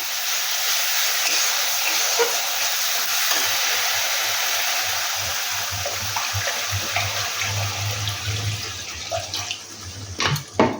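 Water splashes into frying spice paste in a hot pan, setting off a loud, steady sizzling hiss that fades into bubbling and a few clattering knocks.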